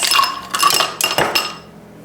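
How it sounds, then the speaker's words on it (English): Ice cubes clatter and clink into a glass for iced coffee, a rapid tumbling rush of sharp glassy knocks that trails off near the end. "I am gonna make it an iced coffee though, so I'm pouring in some ice."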